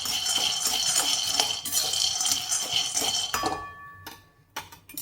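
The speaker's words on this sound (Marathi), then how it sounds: "पहिल्यांदा आपण शेंगदाणे भाजणार आहोत तर शेंगदाणे असे छान भाजून घेणार आहोत" Peanuts roast in a pan, stirred so they rattle and clink dryly against the metal in a dense, continuous patter that thins out into a few scattered taps near the end.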